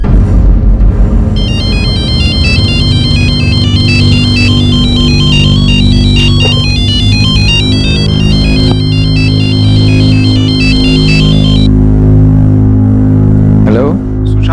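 A phone ringtone plays loudly as a looping electronic melody in a dramatized crime story, the repeating high chime pattern running over a sustained musical backdrop until it cuts off near the end.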